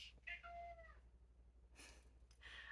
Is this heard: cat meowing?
yes